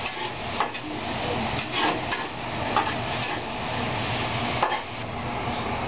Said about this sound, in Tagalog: gigisan natin ngayon yung ampalaya. Kasama ng bawang.